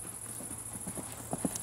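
A horse's hooves beat out a steady clip-clop at a canter or gallop during a riding or jumping session, with the hoofbeats fairly faint at first and a couple of louder strikes near the end over background noise.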